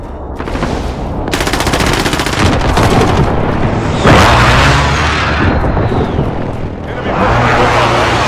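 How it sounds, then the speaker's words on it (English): Precision airstrike explosions in Call of Duty: Modern Warfare, heard as a dense, continuous barrage of loud gunfire bursts and booming blasts, with a heavy impact near the middle and a rumbling tail, and no talk over it. "Enemy precision airstrike inbound."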